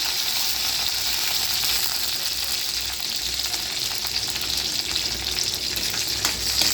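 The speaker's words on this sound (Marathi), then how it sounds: "कडीपत्ता तडला की लसूण टाकून घ्या लसूण जरा लालसर होऊ द्या" Garlic frying in hot oil right after curry leaves have crackled, for a simple homemade sweet dal: a continuous, close sizzle with a fine crackling hiss, steady and unbroken, with no voices.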